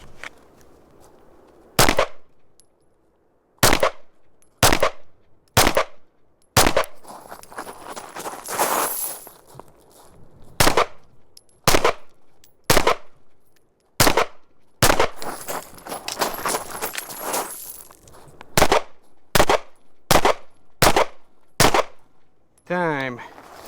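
Hellcat Pro Comp carry handgun fired outdoors in about a dozen sharp, loud single shots in irregular clusters, with noisy rustling and movement between shots.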